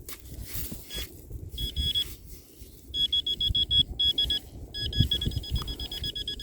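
A metal detector rings over a buried dirty bottle cap, giving bright repeated electronic beeps in short bursts over low rustling ground noise, with no talking.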